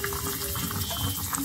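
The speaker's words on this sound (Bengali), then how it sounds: "এখানে আমি লাউ সিদ্ধ করতে দিয়েছিলাম" Bottle gourd boils in a pot of water, producing a continuous close bubbling and gurgling with a steady, even texture and no talking.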